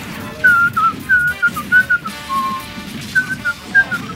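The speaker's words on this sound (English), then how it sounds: "Stop whistling. Diddy Kong Racing song." A person whistles the Diddy Kong Racing theme, a clear melodic line of short notes with brief pauses, heard over a low background murmur.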